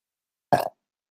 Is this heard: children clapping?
no